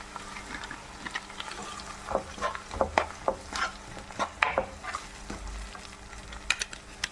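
Ground tomato goes into a pan of frying chillies and garlic for a bitter gourd curry, with steady sizzling and repeated stirring scrapes, close and moderately loud.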